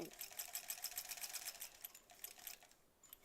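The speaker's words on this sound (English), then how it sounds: "call it the steampunk sewing machine." A 1938 Kenmore electric sewing machine runs in rapid, steady stitching bursts, mechanical whirring with a quick rhythmic chatter, close up and fairly quiet.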